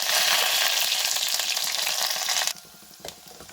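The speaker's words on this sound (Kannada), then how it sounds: "ಒಗ್ಗರಣೆ ಹಾಕ್ಕೊಳ್ಳೋಣ." Mustard seeds, onion and curry leaves crackle in hot oil for a sambar tempering, a dense close sizzle that cuts off abruptly partway through, leaving only a faint hiss.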